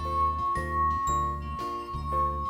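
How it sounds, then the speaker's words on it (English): Glass holding 50 ml of water sung by a wet finger circling its rim: a steady, pure ringing tone held throughout, fairly quiet, with a low pulsing rumble underneath and no talking. "Wet your finger and then rub it around the rim of glass."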